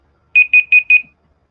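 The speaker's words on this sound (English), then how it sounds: "There's our timer." A writing-sprint timer alarm beeps four times in quick, evenly spaced electronic pulses, loud and close, then stops, with no voices.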